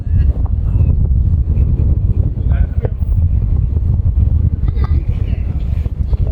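Strong wind roars continuously at The Peak viewpoint in Hong Kong, a loud steady buffeting across the microphone, with faint voices and distant city sound underneath.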